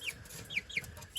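Chickens, including a young Brahma rooster, giving several soft high clucks and chirps in quick succession, fairly faint and close in a quiet barnyard pen.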